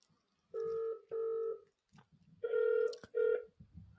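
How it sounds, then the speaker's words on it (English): Outgoing test phone call: a series of dial tones pulse in short even beeps, then ringback chirps follow, fairly quiet and alone without voices. "So I'm going to make a test call right now, and it is going to not answer."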